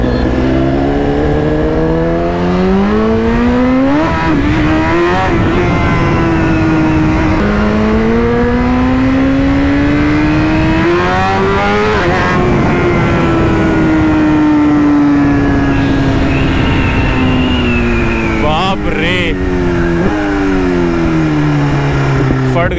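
A BMW motorbike accelerates at full throttle, engine note climbing through repeated rising sweeps with gear changes, loud and close throughout with a person talking over it.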